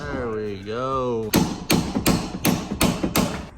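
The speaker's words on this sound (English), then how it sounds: "Oh, we got a hammer." Sharp metal hammer blows ring out while work is done under a 2024 Ford Mustang, about six loud evenly spaced strikes that follow a voice speaking.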